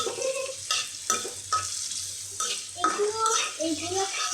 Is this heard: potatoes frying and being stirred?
yes